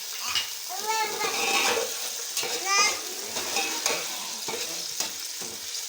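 Sliced onions and a few cardamom pods frying in a pan until golden brown, with a continuous sizzle and occasional spoon scrapes. Someone talks over the cooking noise.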